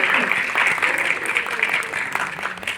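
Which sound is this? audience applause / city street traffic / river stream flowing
audience applause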